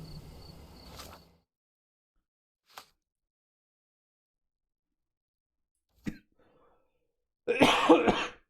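A person coughs in short separate bursts, a longer fit at the start and brief single coughs later, ending in a harsh rasping cough, with near silence between them.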